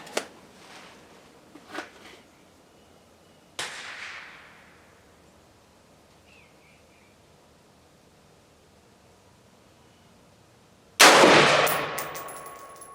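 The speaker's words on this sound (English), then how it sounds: "we're going to shoot 10 rounds at 55 grain reload and see what I get" An AR-15 rifle from Radical Firearms fires 5.56 55-grain reloads at a range: a few sharp, widely spaced reports, the early ones fainter with a short ringing tail, then one loud, close blast that rings out.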